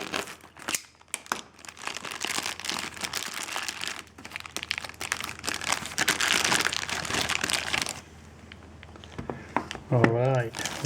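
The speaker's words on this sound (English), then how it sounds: "Remove the packaging from here." Packaging being pulled off and cut from a Xiaomi Redmi K20 Pro / Mi 9T Pro phone box, with steady loud crinkling and rustling of plastic and paper close up, a quieter pause near the end, and brief talking mixed in.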